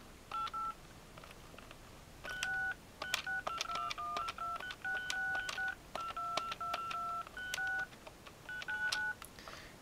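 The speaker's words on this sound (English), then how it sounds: "So that was this unit flashing and sending a DTMF." DTMF tones from a Call Waiting Deluxe telephone unit as it drops the existing call to take the waiting one: a string of short, clear dual-tone beeps in quick, irregular bursts, fairly loud with no talking.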